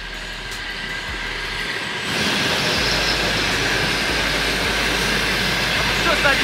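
A train rolls slowly past a railway station signal post at about 20 km/h, a steady rumbling roar that swells after a couple of seconds and stays loud and near.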